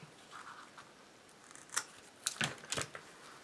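Scissors cutting cord while making small hanging baskets from recycled corks: a few quiet, crisp snips come close together near the end, after a soft rustle of handling.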